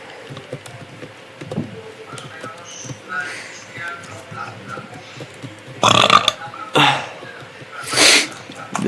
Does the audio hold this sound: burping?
yes